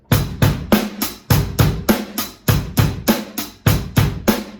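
Fast drum beat played on a kit, with a bass drum, hi-hat and snare in a steady, even pattern of about three hits per second, close and loud with no talking.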